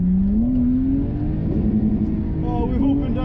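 A Lexus IS200 with an open differential drifts after a hard clutch kick, its engine revving in a steady, loud, rising drone that holds close throughout, with excited voices shouting over it.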